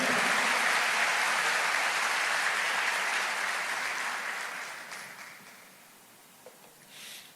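A church congregation applauds, with dense clapping filling the hall at first and then tapering off over several seconds into near quiet with a few scattered claps.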